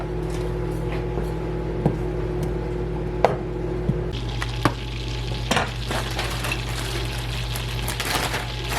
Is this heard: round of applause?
no